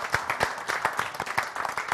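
An audience applauds on a television culture and music show, with rhythmic, evenly spaced claps in a steady, near-synchronized pattern, moderately loud with no talking.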